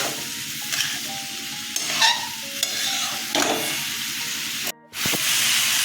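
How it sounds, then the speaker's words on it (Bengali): Potatoes sauté in a pan with a steady sizzle and hiss, with several louder stirring bursts and a brief dropout near the end before the frying resumes. "এই আলুটা দিয়ে দিলাম এবার কষাবো ভালো করে"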